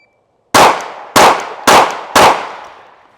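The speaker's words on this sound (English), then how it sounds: "So it's from the ready, 4 rounds in 8 seconds. 4 round, reload, 4 round in 8 seconds." Four sharp pistol shots from a small Glock fired in quick, evenly spaced succession, each loud report followed by a short decaying ring, with no talking.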